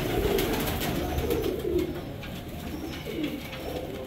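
Pigeons coo in soft, rolling low calls, several overlapping phrases repeating through a steady background hiss, fairly close and moderately loud.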